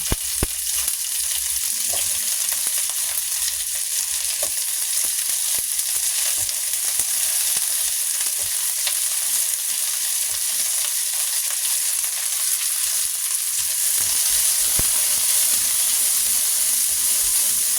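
Bitter gourd (ampalaya) fries in a pan with a loud, steady hissing sizzle, dotted with faint crackles and light stirring taps throughout, and nobody speaking.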